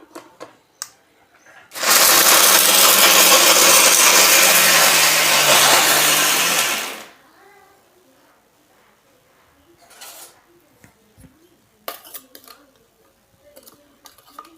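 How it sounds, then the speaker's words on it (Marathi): A mixer grinder whirs loudly for about five seconds while blending coconut chutney with chilli and salt, then stops abruptly, followed by quiet clinks and handling noises. "त्याला छानपैकी आता मिक्सरमध्ये काढू"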